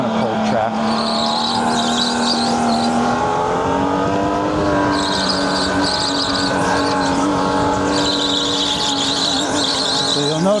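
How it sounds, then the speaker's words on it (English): A supercharged league go-kart laps a cold track at an Edison, New Jersey circuit, its engine droning loud and close with shifting pitch while the tires scrub and squeal in repeated bursts, a voice talking over it. "So you'll notice I'm scrubbing a little bit more on these opening laps"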